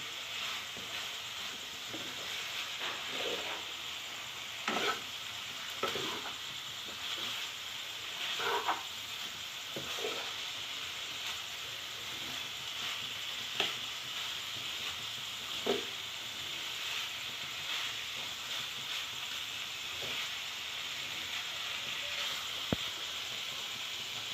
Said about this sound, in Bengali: এবারে মশলার সাথে ভালো করে মিশিয়ে একটু কষিয়ে নিতে হবে ভালো করে।